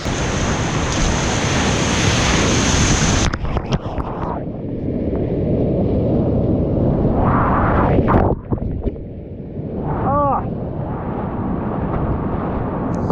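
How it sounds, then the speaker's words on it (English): Whitewater river rapids churn and break in a loud, continuous roar up close, with wind buffeting the microphone and sharp splashes as a small kayak punches through breaking waves. "through the middle of that breaking wave, don't get stopped by the hole, cut across against the flow of the water"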